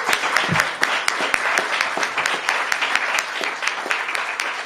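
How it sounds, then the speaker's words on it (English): An audience at a live-streamed DC Mayor's Office event breaks into sustained applause, dense and fairly close, with a few louder individual claps standing out and a murmur of voices faintly beneath. "Let's give them a round of applause for their leadership."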